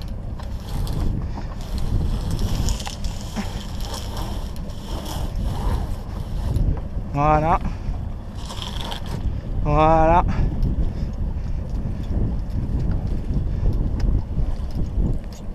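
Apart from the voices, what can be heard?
sailboat engine purring while entering the channel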